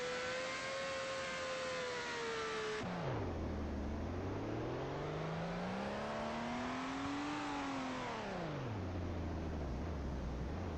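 A car engine hums steadily, then drops sharply in pitch and climbs again as the car is driven, finally settling low as it is parked; the engine runs continuously and loud throughout, with no talking.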